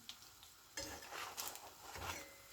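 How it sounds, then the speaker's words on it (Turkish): Çi börek made from yufka sizzles and bubbles in hot oil in a pan, a close, steady frying hiss with a few soft scraping stirs. "bir 2-3 dakika kızartsak yeterli."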